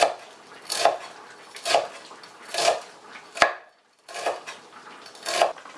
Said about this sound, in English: And just simply kind of finely slice it.